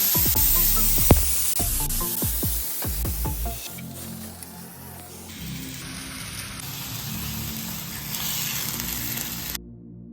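Cumin seeds followed by masala paste sizzle and crackle steadily in hot oil for egg curry, a dense, close frying hiss with a few sharp pops early on and no talking.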